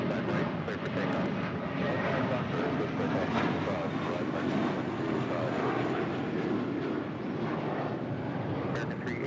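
An American Airlines airplane taking off at LAX gives a broad, steady jet roar, fairly distant and even throughout, with a voice heard over it.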